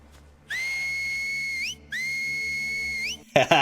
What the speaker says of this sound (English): the whistles are terrifying